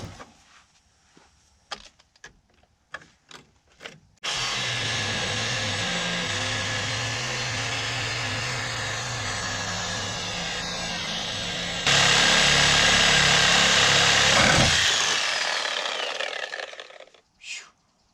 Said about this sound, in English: take the Sawzall to it, see if we can get them bolts out